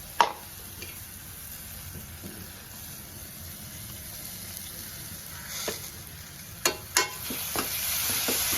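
Ground masala paste frying with cooked onion in a pan for Maharashtrian pithla, a steady soft sizzle under sporadic sharp clinks and scrapes of a spoon, busier near the end, no one speaking.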